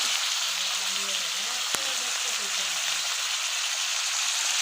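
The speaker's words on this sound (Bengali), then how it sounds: "তো দেখুন পনির ভাজা হইতেছে।" Paneer fries in a pan with a steady, even hiss of oil that runs the whole time. A faint voice murmurs underneath, and there is one brief sharp click partway through.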